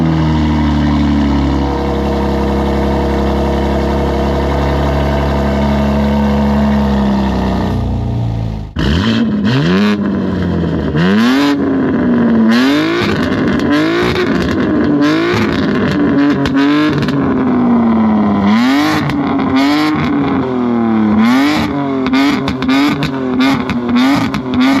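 A loud, modified 2025 BMW M3 G80 Competition, its straight engine droning at a steady high pitch and then revved again and again in sharp, rising and falling bursts, close to the microphone.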